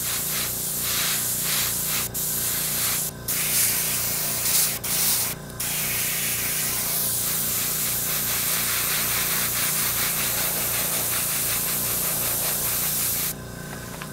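An airbrush or spray can sprays paint onto the steel clevis of a King Tiger tank model in a steady, close hiss with a few short pauses, and no one talks.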